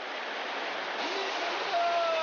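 A waterfall in Jirisan's Chilseon Valley gives a steady, dense rush of falling water from start to end, with a faint tonal sound partway through and the roar swelling slightly near the end.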